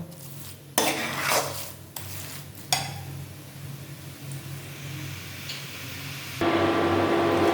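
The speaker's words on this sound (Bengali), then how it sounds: "নারকেলটাকে এইভাবে কিছুক্ষণ পর পর নাড়তে হবে, যাতে তলায় না লেগে যায়।" Grated coconut mixture for coconut laddus being stirred in a pan. A few loud scraping clatters come early, then a quieter hiss with faint knocks, and a louder steady rush at the end, with no talking.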